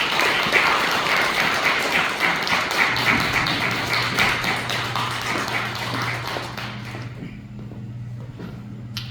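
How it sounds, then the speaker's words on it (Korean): Church congregation applauding to welcome a pastor to the pulpit at a Sunday service: dense, sustained clapping that fills the room, then thins and fades toward the end over a low steady hum. "박수로 맞이하겠습니다"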